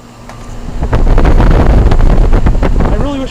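A 2006 Goodman 3-ton air conditioner running outdoors, a steady loud fan-and-compressor roar with a low hum and some wind buffeting, and a brief voice near the end.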